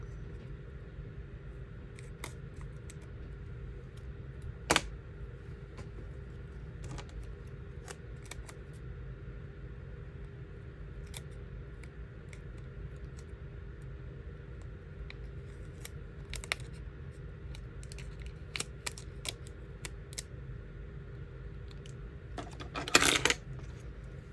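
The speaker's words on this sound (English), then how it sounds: "Let's cut it down a little bit because it is a little big." Scissors trimming a planner sticker down to size, giving sparse, faint snips and small clicks over a quiet steady background, with a sharper burst of clicks near the end.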